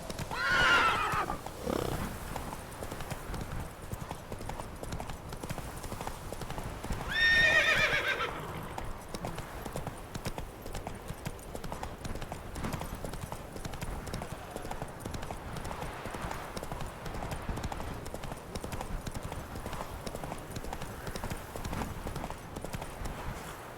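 A horse in The Witcher 3 video game gallops with steady rhythmic clip-clop hoofbeats, and a whinny cuts in near the start and again around eight seconds.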